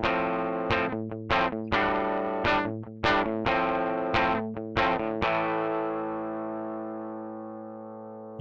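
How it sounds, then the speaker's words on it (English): An electric guitar played through the Behringer XR18 amp simulator with distortion: a run of picked, ringing chords in an uneven rhythm, ending on a long sustained chord that slowly fades. "Master volume down and preamp up is where we first get some breakup and natural distortion."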